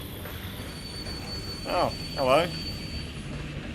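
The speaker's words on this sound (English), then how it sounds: "Another train." Train wheels squeal twice over a steady rail rumble as a train passes in Rain Code, two sharp screeching bursts standing out above constant background noise, with a brief spoken greeting at the start.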